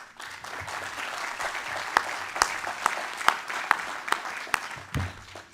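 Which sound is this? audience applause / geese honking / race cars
audience applause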